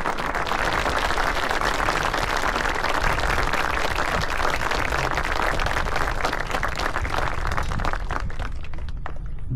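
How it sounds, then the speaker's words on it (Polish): A large audience applauds the President of Poland at a formal ceremony in Doylestown, Pennsylvania, with dense, sustained clapping that fills the room throughout and thins slightly near the end. "Ogromne brawa dla pana prezydenta,"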